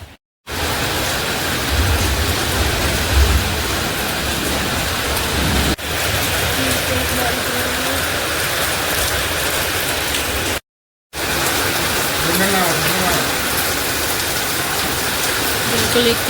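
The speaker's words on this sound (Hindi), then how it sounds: "इतनी ज़्यादा बारिश हो रही है" Heavy rain pours down steadily as a dense, continuous hiss close by, with a brief break partway through, and a voice can be heard speaking softly under the downpour.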